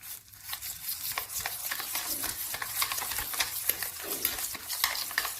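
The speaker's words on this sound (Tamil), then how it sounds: "இதை நல்லா பசைஞ்சு விட்டுக்கோங்க," Gram flour and dosa batter are mixed for ridge gourd bajji, giving a close, wet, squelching stir with an uneven rhythm and soft scraping against the bowl.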